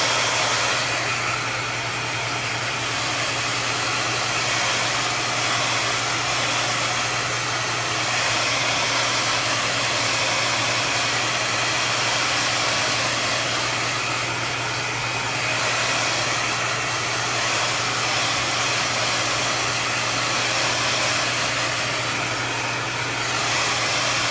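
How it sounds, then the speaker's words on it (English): A hair dryer blows steadily to dry freshly applied thick paint, a loud, continuous airy whoosh with a low motor hum that runs unbroken for the whole stretch, with no voices. "I blow dry it a little bit"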